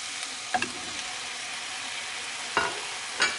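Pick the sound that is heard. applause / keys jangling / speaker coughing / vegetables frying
vegetables frying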